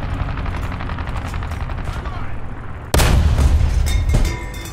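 A T-26E tank fires its cannon in War Thunder ground realistic battle: a sudden loud, close boom cuts through steady engine rumble, then rolls off with lingering rumble and clatter.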